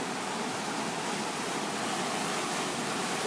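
Ocean surf breaks against rocks off the coast, a steady, dense roar of crashing water and spray that holds at an even, fairly loud level throughout without distinct separate impacts.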